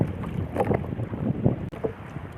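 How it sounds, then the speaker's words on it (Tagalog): Strong wind buffets the microphone in steady rough gusts, with water and a boat's motion churning beneath, out fishing. "malakas na yung hangin"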